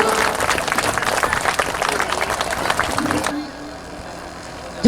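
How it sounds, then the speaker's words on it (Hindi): An audience at a Shrimad Bhagavat Katha religious discourse claps in a dense burst of applause for about three seconds, then it stops abruptly and quiet room noise remains. "तालियां बजाते रहे आप लोग।"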